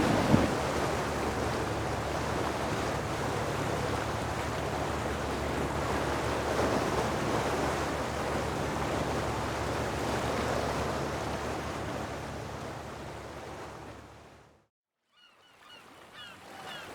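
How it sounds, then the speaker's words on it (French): Sea swell rolling against a sailboat anchored in a calm, windless bay in the Cyclades, a broad steady wash of water noise that holds for most of the stretch, then drops off abruptly near the end. "Pas de vent et une houle travers au bateau."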